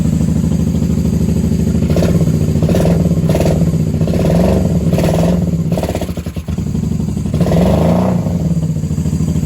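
A 1994 Honda Magna VF750C motorcycle engine runs close by with too much choke, a loud steady thrum broken by several short blips of revving and a brief dip near the end.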